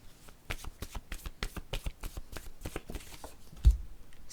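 Word cards being shuffled and drawn, a quick run of soft papery flicks in an even rhythm, close and fairly quiet, ending with a low tap as a card is set down.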